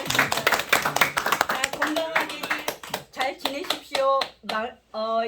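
Hand clapping from the audience at the end of a Korean lecture on Confucian thought, a quick burst of close claps that thins into scattered taps as people start talking.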